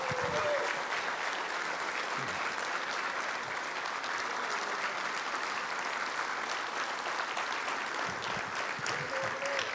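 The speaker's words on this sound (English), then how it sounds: "Nicely done, George. Big round of applause." Sustained audience applause at an awards night honoring George Pinkston, a dense, steady wash of clapping hands from a crowd, continuous and fairly loud throughout with faint voices mixed in.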